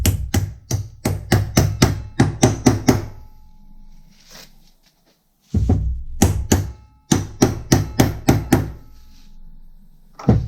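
Hammer blows ring out against a machined pin during restoration of a mini-excavator gearbox in a workshop, two loud runs of rapid, evenly spaced metallic strikes separated by a quieter pause.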